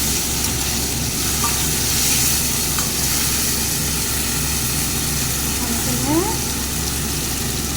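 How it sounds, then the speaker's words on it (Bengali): Fried potatoes sizzle in a pan as a masala paste of tomato, onion and green chili is added. The loud, steady frying hiss runs throughout, close by, with occasional stirring scrapes. "আলুটা ভাজা হয়ে গেছে, এখানে মশলাটা যে পেস্ট করে রেখেছি এটা দিয়ে দিলাম।"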